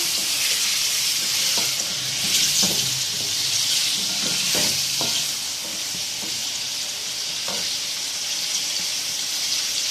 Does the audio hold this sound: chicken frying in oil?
yes